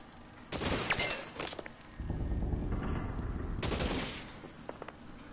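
Rapid gunfire rattles in the video game L.A. Noire, with loud bursts of shots and a sustained volley in the middle, followed by another burst, all close and dense with no voices.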